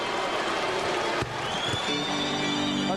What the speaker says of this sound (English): Oh, and you hear the reaction from the crowd.